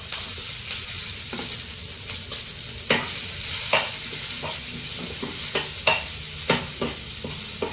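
Onions fry in a hot pan for an Indian veg thali, giving a continuous close sizzle broken by sharp scraping and stirring clicks at irregular intervals, with no one talking.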